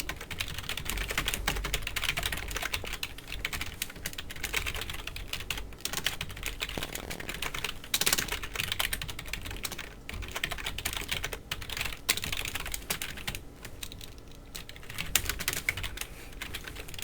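Rapid continuous clatter of fingers typing C++ code on a computer keyboard, close and dense, with bursts of keystrokes and brief pauses, and no talk.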